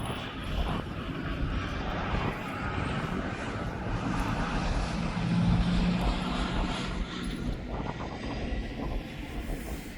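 A Jet2 jet airliner in jet2.com livery flies over an airfield on its landing approach, its engines producing a sustained broad roar that swells gently and holds steady for ten seconds at moderate distance, with no talk.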